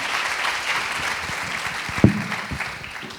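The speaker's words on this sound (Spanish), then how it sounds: "Un aplauso." Audience at a medical symposium applauding, a steady wash of clapping from a seated crowd with one sharper thump near the middle, fading slightly at the end.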